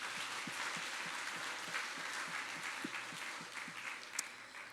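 A church congregation claps in a steady rhythmic beat, moderately distant and even, with a brief sharper sound near the end.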